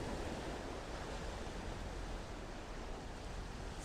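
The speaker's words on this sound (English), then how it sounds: "there's a lot of wind and there's water nearby" Strong wind rushes across an outdoor spot near water, a dense, steady broadband roar and microphone buffeting with no breaks and nobody talking.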